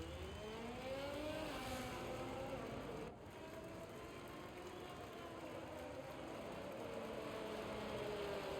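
Race car driving in a PlayStation racing game on the Miami circuit, a steady engine drone with shifting pitch sweeps, moderately loud and continuous, with no talking.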